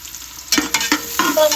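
Onions hit a hot pan in a home kitchen, several bursts of stirring and sizzling in short spaced clusters, close and moderately loud, with no talking.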